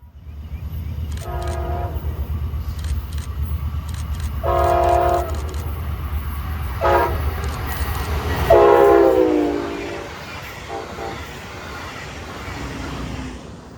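A Brightline passenger train runs along Florida's Space Coast near Cocoa, sounding several loud horn blasts of varying length over a steady, close rumble of passing rail cars.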